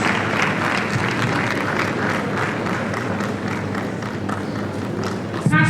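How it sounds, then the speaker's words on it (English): Audience applause at a church leadership conference as a pastor is called up, dense sustained clapping from a large hall crowd, steady and fairly loud throughout, heard without speech. "A round of applause for him,"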